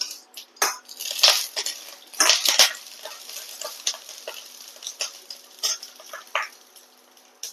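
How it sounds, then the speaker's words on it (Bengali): Eggplant pieces sizzle and spit in hot oil in a pan while being cooked for a Bengali vegetable dish. Sharp crackling bursts rise and fall, with scraping stirs in between, close up and with no talking. "বেগুনগুলোকে আগে একটু ভেজে নেব।"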